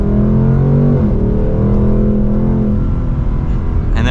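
A 2024 Ford Mustang Dark Horse Premium engine in normal sport drive, loud and steady from inside the cabin, a quick upshift near the first second dropping the pitch before it climbs again.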